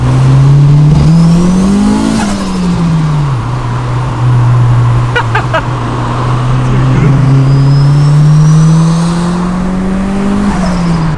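An old turbocharged Mitsubishi Lancer accelerates hard, its loud engine drone rising and falling through the gears, with a few sharp clicks partway through.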